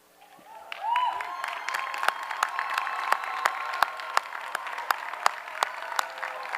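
Applause from a graduation commencement audience swells in after a moment and carries on steadily, dense and sustained, with occasional sharper individual claps standing out and faint crowd noise underneath.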